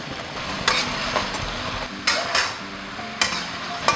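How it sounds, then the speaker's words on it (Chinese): Braised pork in a wok over high heat as the sauce reduces: a steady frying sizzle, punctuated by several sharp scrapes and clanks of a spatula stirring against the wok, close and fairly loud. "这肉炖了差不多45分钟了，再来收一下汁，换大火。"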